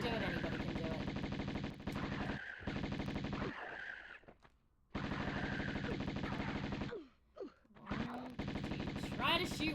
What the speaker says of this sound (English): Shoot it, Lara